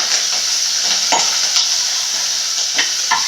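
Onions sizzle steadily in a hot pan while making rice upma, with dense continuous frying noise and occasional soft stirring scrapes, close up and with no talk.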